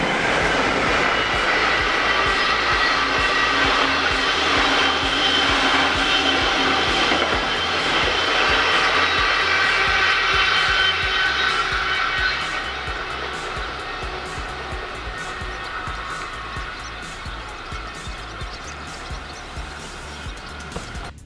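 A train hauled by a Class 185 electric locomotive, 185.001, rumbles past on a transfer run of an SBB IC 2000 toward Leipzig, loud and steady with rattling wagons before fading gradually toward the end.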